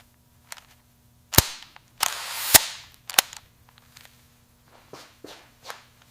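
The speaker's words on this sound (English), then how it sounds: "A seized bolt breaks free with a loud crack, releasing a cloud of rust" A few sharp, loud cracks and snaps as a seized, rusted bolt on a car under restoration suddenly gives way, among softer metallic clicks and shuffling.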